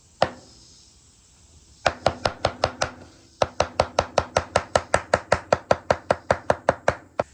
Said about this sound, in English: And just do a quick, rough chop.